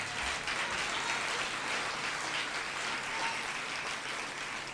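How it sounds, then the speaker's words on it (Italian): Steady, dense applause from a live theatre audience at a comedy show in Rome, continuous and even for the whole stretch with no voices on top. "Vogliamo fare un applauso a me Max?"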